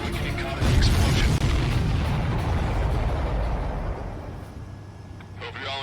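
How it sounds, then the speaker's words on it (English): A missile strikes its target and explodes in the Ace Combat 7 flight combat game, a loud low booming blast that rolls on and slowly fades over several seconds. "Missile hit its target."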